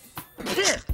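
A single sneeze in a comedy scene, a sharp breathy intake building to a quick forceful burst, close and alone, over a little faint background noise.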